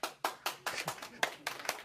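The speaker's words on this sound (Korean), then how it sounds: "이거 박수 치는 거." A small group of people at a distributor briefing clapping hands in a steady beat, about eight distinct claps over two seconds, fairly quiet and slightly reverberant.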